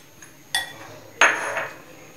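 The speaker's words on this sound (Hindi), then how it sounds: "अब मैं आलू में मसाले मिक्स कर रही हूँ" Spices, chopped mint and coriander being mixed into potatoes in a bowl for batata vada: a few sharp clinks of a utensil against the bowl, one louder scrape-like hit, with quiet pauses between.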